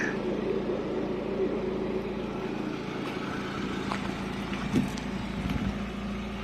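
A Saab 9000 Turbo engine, unused for two years, idles steadily with a faint ticking rattle from a noisy tensioner running through it, steady and close throughout.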